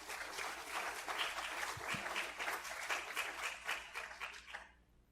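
An academic symposium audience claps for a departing speaker, a fairly faint, dense burst of applause that holds briefly and then fades away at the end.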